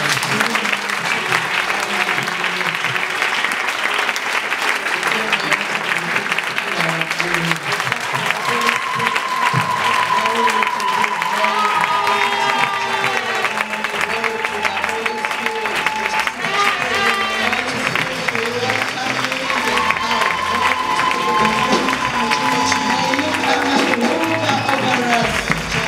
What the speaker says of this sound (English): Let us give the Holy Spirit a hand clap at you.